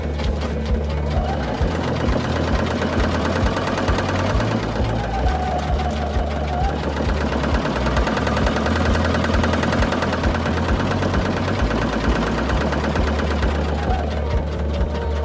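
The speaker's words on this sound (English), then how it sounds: "Needle up, foot up, move to your next mark, needle down, just continue to sew." A sewing machine stitches a fringe delta kite continuously and loudly, its motor drone and rapid needle rhythm steady throughout, with small shifts in pace.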